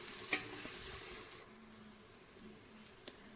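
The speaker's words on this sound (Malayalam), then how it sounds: "എന്നിട്ട് അതിൻ്റെ പച്ചമണം പോകുന്നത് വരെ നമുക്കൊന്ന് ഇളക്കി കൊടുക്കാം." Ginger garlic paste sizzles softly with onions in a pan while a spoon stirs it, giving faint frying crackle with a couple of light scraping taps.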